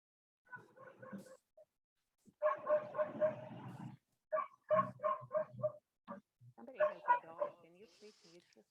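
A dog barks repeatedly in a home during an online lecture, coming in clustered bursts of several barks with short gaps, fairly close and clear, with a few whimpering yips near the end.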